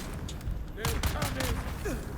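Rapid gunfire crackles in the video game Dune: Awakening, a dense fusillade of overlapping shots mixed with game effects and a voice talking over the action.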